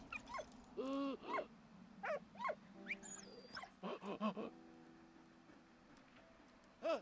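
Dog barks, yips and whimpers from the dog character in the video game Valiant Hearts: The Great War, a scattered run of short calls with pauses and some game tones, close and fairly clear.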